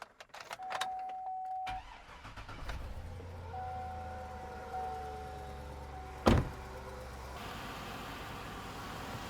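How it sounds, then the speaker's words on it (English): A truck engine fires up after cooling system repairs, with starter cranking, then a steady low idle that runs on, broken by one sharp knock, heard close with no talking. "we're going to go ahead and fire the engine up and let it burp out any of the air that it needs to burp out"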